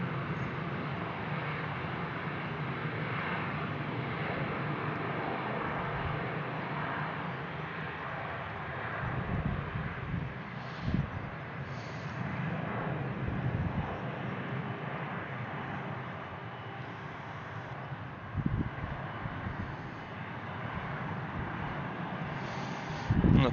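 An airliner rolls for takeoff at Brussels Airport, a steady distant jet roar with wind noise running throughout and a few faint bumps.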